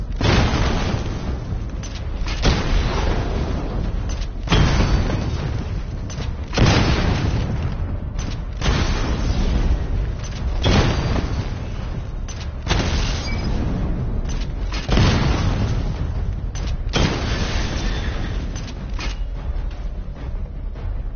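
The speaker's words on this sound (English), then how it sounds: "Charge the missile barrage to level 2 to destroy up to 4 targets at once" Repeated heavy missile explosions from a Batmobile barrage in Batman: Arkham Knight, booming in regular bursts roughly every two seconds with rumbling tails, loud and continuous with no talk.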